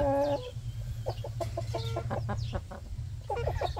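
Rhode Island Red hens about six months old, in laying, cluck in a rhythmic run of short repeated notes over a steady low background hum, fairly close, with no talking.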